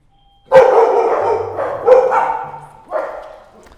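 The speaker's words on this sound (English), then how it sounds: "The golden retriever has a strong bark." A golden retriever barks three times at close range, a loud bark followed by two more spaced about a second apart, each trailing off, with no talk over it.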